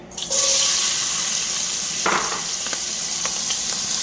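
Onion dropped into hot beef fat in a pot for braising short ribs, setting off a loud, steady sizzle and hiss that continues throughout, with a few faint utensil clicks.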